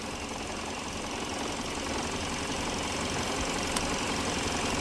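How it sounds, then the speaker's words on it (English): A Chevy car engine idles steadily throughout, a continuous low rumble with broadband mechanical noise. It holds at an even, moderate level, with no talk over it. "I switch it with the car running"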